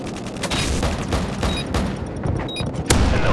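An AC-130 gunship fires in Call of Duty, a video game: a dense, loud barrage of rapid heavy shots and booming impacts that runs continuously, ending with a sharper blast.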